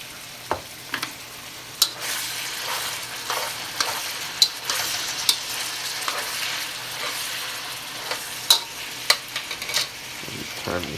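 Beef and bell peppers with sesame seeds sizzle in a hot pan as a spatula stirs them, a steady close frying hiss broken by sharp scrapes and clacks every second or so.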